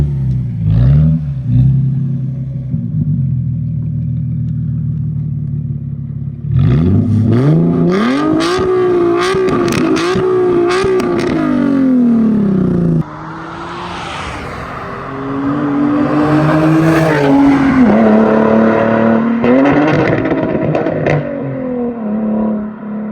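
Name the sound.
Nissan 370Z engine revving and driving, recorded outside the car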